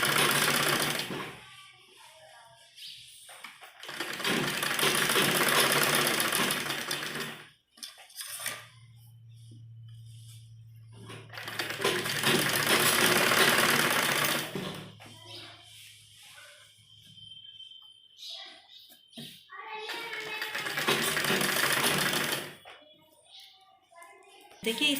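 A sewing machine stitches along the edges of a net baby frock in three loud, close bursts of rapid chatter. Quieter handling sounds and a low steady hum fill the gaps between runs.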